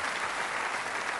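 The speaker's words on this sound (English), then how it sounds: "let's give him a nice round of applause" A television game show studio audience applauds in a brief, dense, even wash of clapping, steady and moderately loud with no voices on top.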